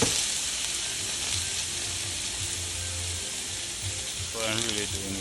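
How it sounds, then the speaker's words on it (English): Shrimp sizzling in a hot pan for a honey garlic shrimp saute, a steady broadband frying hiss running throughout, loud and close, with a brief stir or scrape near the end. "So I add my shrimp to a hot pan and season it lightly."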